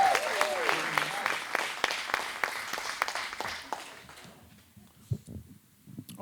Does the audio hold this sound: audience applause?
yes